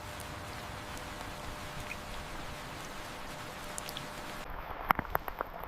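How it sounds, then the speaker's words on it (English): Rain falls steadily in the Swiss mountain village of Grindelwald as a soft, even hiss, with a few sharper drips tapping close by near the end. "When the rain falls here, the world feels complete."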